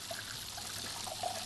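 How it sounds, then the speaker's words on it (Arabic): Hot water poured into a cup while making broth with a bouillon cube, a faint, steady trickle lasting the whole moment with no talk over it. "حط شويه ميه سخنه هنا"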